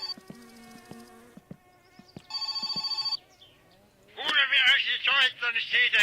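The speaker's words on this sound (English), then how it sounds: "Looks like we have another phone call" A telephone rings inside the video game My Summer Car, two bursts of electronic trilling among scattered clicks and faint buzzing, followed by a short stretch of louder game noise.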